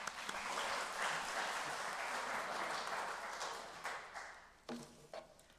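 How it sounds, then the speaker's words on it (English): A congregation applauds for Randy with a sustained wash of many hands clapping at a moderate distance, gradually thinning out and ending in a few scattered claps. "You can clap."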